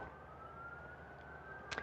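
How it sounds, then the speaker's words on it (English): Emergency vehicle siren wailing outdoors in the distance, a steady faint tone held low in the background throughout, with no talking. "And sirens, we now have sirens."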